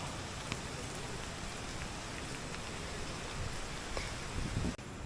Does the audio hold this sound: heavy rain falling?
yes